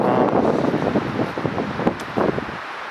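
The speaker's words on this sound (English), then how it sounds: "it's kind of windy out here today" Wind blowing outdoors on a cold day beside a forest trail, buffeting the microphone as a loud, rough, continuous rush with gusty swells.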